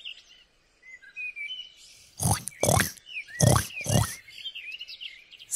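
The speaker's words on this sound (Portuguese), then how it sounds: "Que som o porquinho faz?" Pig giving several short grunting oinks in a quick cluster, moderately loud, with bird chirps and tweets in the background before and between them.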